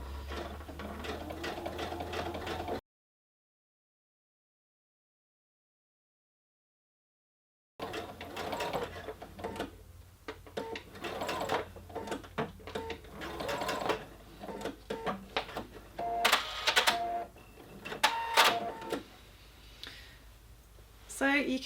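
Sewing machine stitching a half-inch seam around a sleeve header, a steady mechanical whir with rhythmic clicking that stops briefly in a silent gap, then resumes in bursts with a few louder clatters near the end.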